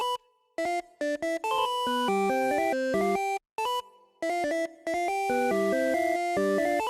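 A synth lead plays a bright counter melody programmed in FL Studio, clear stepped notes in short phrases broken by brief gaps of silence, sounding alone and up front.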